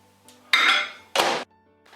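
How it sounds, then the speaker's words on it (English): Canned spaghetti in a bowl goes into a microwave, heard as two loud, close clattering knocks of crockery on a hard surface separated by brief quiet, with faint bumps around them. "And I put it in a bowl and put it in the microwave."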